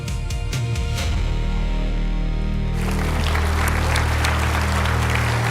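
An audience at a flight simulation expo applauds a company taking the main stage: a dense, loud round of clapping that starts over a tonal music sting, then continues alone as a steady roar of hands.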